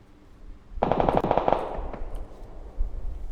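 Automatic gunfire from enemies on a rooftop in the video game PUBG: a loud, rapid burst of shots lasting under a second, then a fading tail, followed by a faint later thump.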